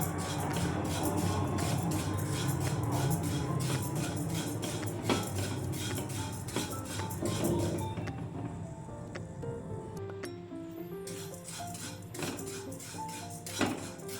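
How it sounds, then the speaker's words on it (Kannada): Vermicelli roasting in a pan until golden brown, with repeated metallic scrapes and clinks of a utensil stirring against the pan, steady and close, easing off briefly before resuming. "ಗೋಲ್ಡನ್ ಬ್ರೌನ್ ಆಗುವ ತನಕ ಫ್ರೈ ಮಾಡುವ, ರೋಸ್ಟ್ ಮಾಡುವ."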